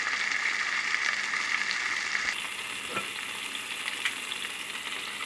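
A pork chop seasoned with salt and pepper fries in oil, giving a continuous close hiss and crackle with a few scraping stirs.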